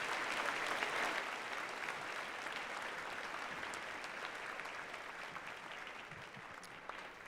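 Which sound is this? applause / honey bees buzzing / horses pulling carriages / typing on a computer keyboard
applause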